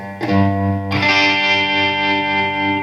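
Two strummed electric guitar chords, moving from an open A toward C in an Americana style, ring out loud and sustained, heavily processed with distortion and chorus-like shimmer, letting the second chord hang.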